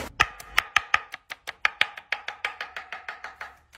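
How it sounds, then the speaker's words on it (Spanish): Knife chopping an onion into small squares on a cutting board: a steady series of about twenty crisp, close, loud chops in a regular rhythm with no talking. "Picamos en figuras cuadriculíneas"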